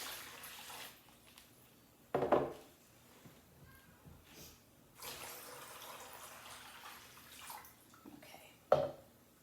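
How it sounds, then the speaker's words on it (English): Water is poured into a plastic bag in short, soft gushes with a couple of sharper splashy bursts, close and fairly quiet, with small drips and handling sounds between, and no speech. "I'm just going to pour my water in"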